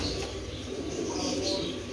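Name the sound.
pigeon cooing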